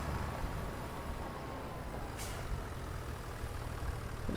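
Tractor driving in Farming Simulator 25, a steady broadband engine drone throughout with a brief hissing burst midway, no talking.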